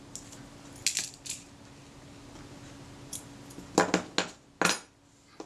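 Small metal parts from a Kodak Retina Reflex camera dropping onto a hard surface, several light clinks and rattles in separate bursts, close and crisp, with no talking.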